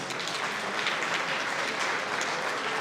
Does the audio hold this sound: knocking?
no